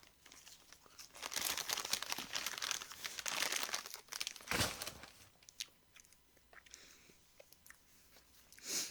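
McDonald's fries being eaten, with loud crinkling of the paper bag and wrapper alongside crunchy bites and chewing, in bursts over several seconds, close to the mic, with no talking.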